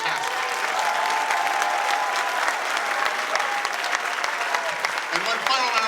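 Concert audience at an honor band performance applauds a conductor's bow, full, sustained clapping filling the hall with scattered louder claps and a voice or two audible underneath.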